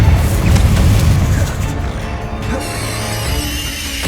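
Confringo fire spell from Hogwarts Legacy on PS5 erupts in a loud booming blast that rumbles and fades over a few seconds, heard close with no voices on top.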